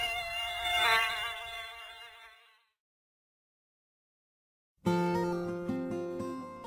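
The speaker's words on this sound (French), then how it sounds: "Vous seriez piqué par des nuées de moustiques." Mosquitoes swarm in marshland, a close, high whining buzz that fades into silence for about two seconds before a dense, bright buzzing returns abruptly and carries on to the end.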